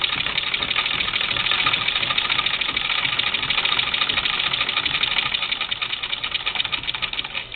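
A 1937 Singer Model 15-88 sewing machine with a seam guide runs at steady speed, producing a continuous close mechanical whir and rapid rhythmic needle chatter that softens slightly near the end.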